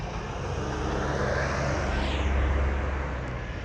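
Farm vehicle driving past on a road, a broad rumbling engine and tyre roar that swells and fades as it passes, loud and continuous throughout.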